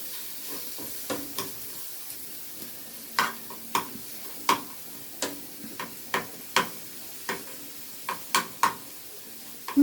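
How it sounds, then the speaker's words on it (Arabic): Garlic sautéing in a pan, a soft steady sizzle under repeated light taps and scrapes of a spoon stirring, the clicks coming roughly every half second and fairly close. "ونشوحها كده معاها"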